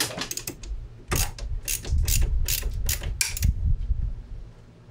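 Wood screws are driven into a plastic trigger guard on a Boyds Heritage rifle stock for a Remington 770 in 300 Win Mag, giving close, clicking ratchet-like bursts in quick clusters with brief pauses between.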